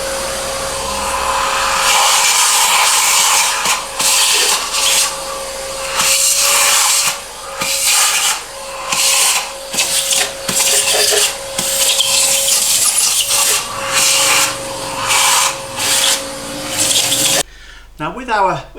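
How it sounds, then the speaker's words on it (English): A shop vacuum roars steadily with a constant whine, its tone shifting and sputtering as the nozzle moves over an MGB cylinder head, with brief scraping and knocking noises. "I'm going to use the shop vacuum cleaner just to go into each of these"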